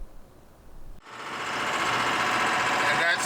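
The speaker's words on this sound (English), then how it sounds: "The sound of the engine is much louder than it used to be." An RV engine runs with a loud, steady mechanical drone, quiet at first and then swelling into a continuous rumble that holds for the rest of the clip.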